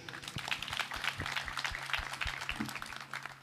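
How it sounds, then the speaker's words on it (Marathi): Men in a crowd at a Shivaji Jayanti celebration clap for the women, with a steady spatter of applause and a few louder claps at a moderate distance. "यानंतर सगळे पुरुष टाळ्या वाजवतील महिलांसाठी"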